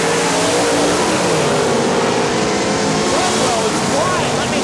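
Drag race cars launch hard from the start line in a supercharged outlaw matchup, engines roaring loud and continuous at full throttle with pitch sweeps as they accelerate away.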